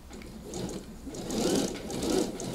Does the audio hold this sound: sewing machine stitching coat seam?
yes